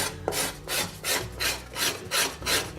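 A sharp burnished scraper draws across a wood surface in steady repeated strokes, about eight close rasping pulls in a regular rhythm, with no talking.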